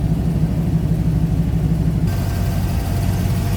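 A GM Performance Ram Jet PFI 5.7 liter crate engine in a 1937 Ford roadster street rod idles steadily, a loud, close, even low rumble with no talk over it.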